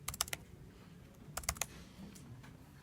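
Quick bursts of typing on a computer keyboard, with clustered clicking keystrokes at the start and again midway, quiet and close, followed by a lull with no speech.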